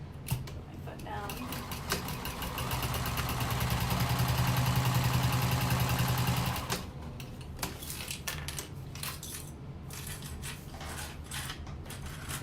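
A sewing machine stitches fabric for a slouchy tote bag, whirring steadily and loudest in the middle stretch before stopping, followed by handling clicks and rustles; a person speaks over parts of it.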